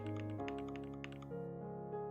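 Quick clicks of keyboard typing tap over a loud sustained musical tone that shifts pitch partway through.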